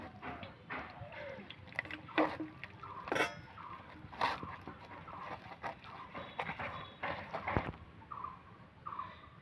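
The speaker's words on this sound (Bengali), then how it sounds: "এবার আমি এতে জল দিয়ে ভালো করে ফেটিয়ে নেব।" A spoon whisks gram flour batter with water in a bowl, producing a series of irregular wet clacks and scrapes at close range in a quiet kitchen.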